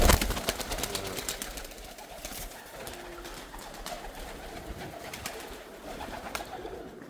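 Pigeons coo in soft, repeated rolling calls against an outdoor background, with a few sharp clicks and taps near the start; no one speaks.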